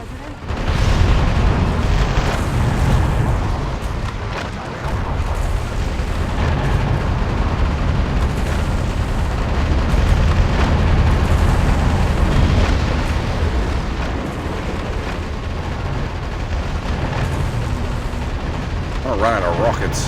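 In the video game Metal Wolf Chaos XD on PS4, rockets and explosions roar in a dense, continuous barrage of booms and blasts, loud and sustained throughout, with a player voice talking over the battle.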